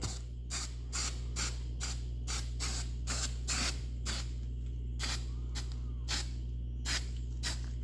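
Short bursts of aerosol spray paint on Jeep CJ2A rear fenders hiss repeatedly from a partly clogging can, close by, with brief gaps between them over a steady low hum.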